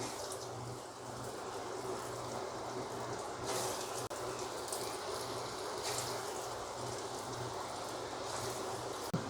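Lentil dumplings for dahi bhalle frying in a pan of oil, giving a steady, dense sizzle that runs throughout with a few slightly louder crackling swells.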